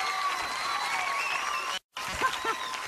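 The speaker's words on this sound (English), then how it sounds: "Give him a round of applause, audience." Studio audience applause on a game show, steady and fairly loud with musical tones running underneath, cut by a brief silent gap before the clapping resumes.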